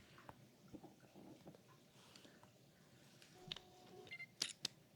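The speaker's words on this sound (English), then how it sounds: "Listen to that. The shutter sounds different" A compact camera's shutter clicks softly a few times, crisp and close, mostly toward the end, over a faint quiet background hiss.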